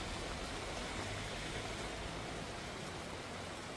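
Steady rain falls at night in Bodeli, Chhota Udepur, Gujarat, a dense, even hiss that holds at a faint level throughout with no voices.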